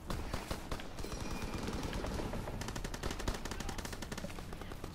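Rapid automatic gunfire from Call of Duty WW2 crackles in dense bursts, with sharp repeated shots layered over constant battlefield noise at close range.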